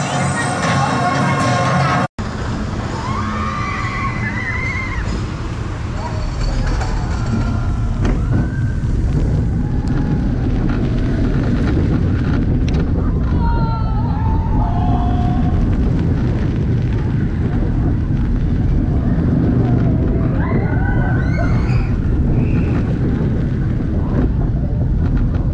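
An amusement park ride train at Hellendoorn, a sandkit-type train, runs along its track with a loud continuous rumble while a musical soundtrack plays over it, with no talk.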